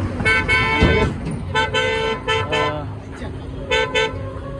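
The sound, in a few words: car being parked, horn tooting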